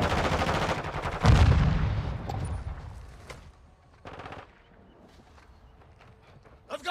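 Bursts of Call of Duty gunfire, a heavy close volley first, then scattered shots fading into sparse distant cracks and short bursts, under game voices calling out.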